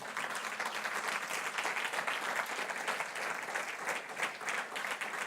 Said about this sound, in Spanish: Dale un aplauso a Dios